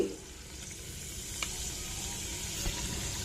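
Tempering spices with a pinch of turmeric fry in oil in a small pan for a ponnaganti leaf chutney, giving a steady close sizzle with faint crackles and light stirring, no talk.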